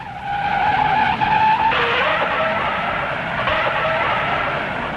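A race car skids through a spin at the 1959 Indianapolis 500, its tires sliding across the track in a loud, sustained screech with engine noise and no talk.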